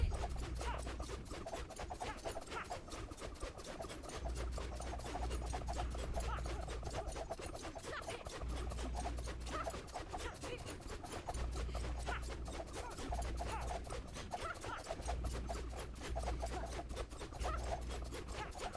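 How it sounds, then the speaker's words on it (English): A pet dog in an online action role-playing game pants in a steady, rapid rhythm, quiet and continuous, with soft game ambience underneath. "someone has a dog right here"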